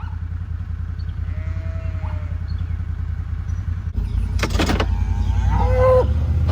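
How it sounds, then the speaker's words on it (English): Cows on a flooded farm moo in a few drawn-out calls, one nearby and another louder toward the end, over a low steady rumble of background noise. "Oh, there's the cows."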